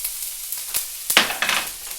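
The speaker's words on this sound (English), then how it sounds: "into that we're going to put our finely diced onion" Finely diced onion dropped into smoking-hot olive oil in a pan, with a sudden close hiss after a couple of soft knocks that settles into a steady bright sizzle.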